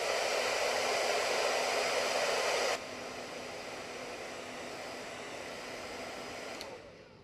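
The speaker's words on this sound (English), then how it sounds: "But then finally, I'm going to blow dry this again for a second." A hair dryer blows steadily over painted craft foam, a loud, even rushing hiss that drops to a lower setting partway through before shutting off near the end.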